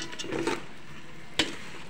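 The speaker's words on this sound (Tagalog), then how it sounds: "kumukulo na po sa sarili niyang sabaw" Chicken boils in its own broth, bubbling and sizzling in a pot close by, with soft crackling and one sharp clink of a utensil partway through.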